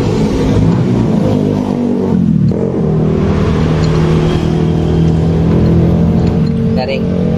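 A rough-running Yamaha Jupiter MX motorcycle engine revs loudly and continuously up close, its coarse drone rising and falling without a break.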